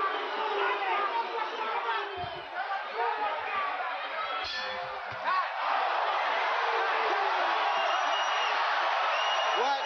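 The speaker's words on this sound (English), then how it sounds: "you hear the crowd start to boo" An arena crowd at a Mike Tyson boxing match roars with a dense, sustained wall of noise, booing and shouting blended with babble and a commentator's voice over it.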